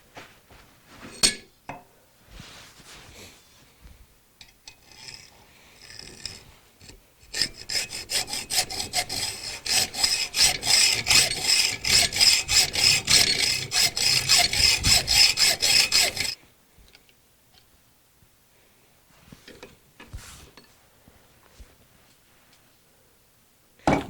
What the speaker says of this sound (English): So what we need to do now is cut this pin off